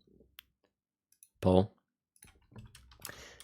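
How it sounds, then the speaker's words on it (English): Sparse, light clicks of keys on a computer keyboard while typing a poll, scattered across a quiet stretch, with a brief burst of voice in the middle and some faint talk near the end. "I'm typing in a poll."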